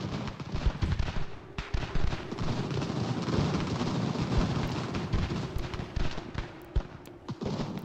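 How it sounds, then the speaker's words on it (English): Dense artillery and musket fire on an American Revolution battlefield in Ultimate General, a continuous rumbling barrage of overlapping booms and cracks, loud and unbroken with no speech. "Artillery's plugging the gap."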